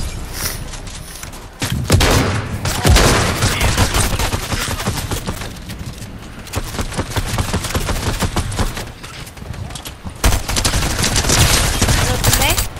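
Video game gunfire comes in a continuous loud barrage of rapid shots and booms that runs the whole time, dipping briefly and then resuming.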